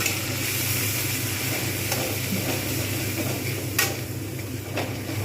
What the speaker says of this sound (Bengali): এর মধ্যে রয়েছে দিয়ে ভালো করে মশলাগুলো কষতে থাকবো